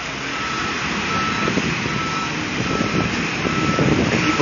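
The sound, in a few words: sanitation truck reversing beeps during hurricane cleanup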